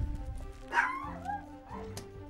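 Dogs barking in the background of a home, a couple of short yips and barks standing out over a low steady hum, fairly faint and distant.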